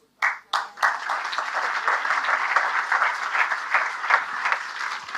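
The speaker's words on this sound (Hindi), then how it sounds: "मैं सच कहता हूं, हर उस व्यक्ति के लिए मैं ताली बजाता हूं जो खुदा को सुनता" A church congregation bursts into applause, a couple of sharp early claps quickly swelling into sustained, dense clapping from many hands that carries on steadily throughout.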